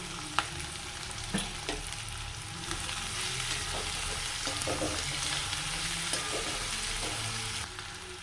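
Chopped onions, garlic, ginger and green chilies sizzle steadily in a pan for beef roast, with an even frying hiss and occasional light clicks of stirring, fairly quiet and with no talk.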